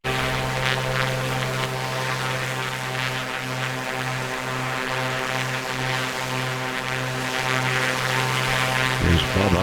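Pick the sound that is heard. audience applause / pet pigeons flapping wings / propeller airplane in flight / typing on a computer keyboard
propeller airplane in flight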